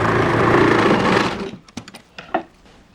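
A sewing machine stitches fabric while a skirt is sewn: a loud, steady close whir for over a second, then stops, followed by a few sharp clicks and knocks.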